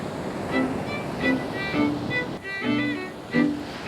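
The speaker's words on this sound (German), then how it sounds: "die Wellen sehen super aus" Ocean surf in Los Angeles rolls steadily with a broad wash of breaking waves, swelling and easing in several gentle surges, recorded outdoors with some wind.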